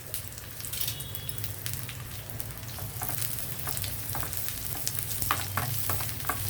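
Onions frying in oil with cumin and mustard seeds, a constant crackling sizzle close by that grows slightly busier, with sharp pops and stirring taps scattered through it.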